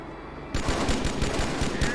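Battle rifle fire in Halo 2, a dense run of sharp, rapid shots that start abruptly and continue loud and close, with no talking over them.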